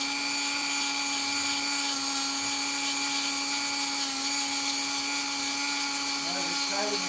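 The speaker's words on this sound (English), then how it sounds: "I'm sure this is not too exciting watching a couple of guys grind." Grinding in a workshop, a constant loud high whine that holds steady throughout with no break.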